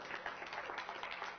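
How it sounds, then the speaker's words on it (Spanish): A church congregation applauds a large group of young people, a short burst of steady, dense clapping from the crowd heard briefly and without speech. "Yo creo que se merece un fuerte aplauso"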